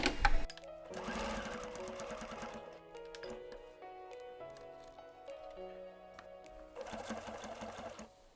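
A sewing machine runs in bursts while stitching a square seam on a slate pouch, its motor whirring in close, loud stretches with brief pauses between runs.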